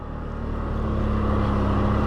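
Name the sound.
loud exhaust of an off-road vehicle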